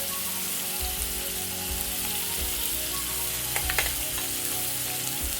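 Chilies and turmeric frying in a pan with peanuts and chili paste for a Malabar spinach dal, giving a steady close sizzle with a few brief clinks and stirring scrapes.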